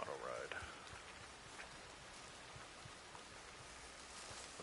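Rain falls in Red Dead Online as a soft, steady patter under faint game ambience, quiet and distant, with a brief louder tonal sound at the start.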